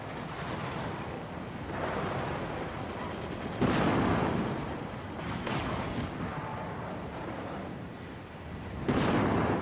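A mech explodes in MechWarrior 5, with a low rumbling roar and several heavy booming bursts over dense, noisy battle sound.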